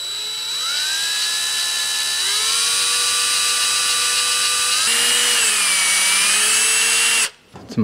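A power drill pre-drills holes in a deer skull for a European mount, whining loudly and steadily for about seven seconds. Its pitch shifts as the load changes, then it stops abruptly.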